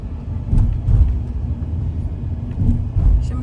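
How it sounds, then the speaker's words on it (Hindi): Slow road traffic jammed in a long line in Shimla, heard as a low, rumbling wash of car and bus engines with occasional louder swells of passing vehicles, moderately close and free of talk. "शिमला का ट्रैफिक, हाय तौबा।"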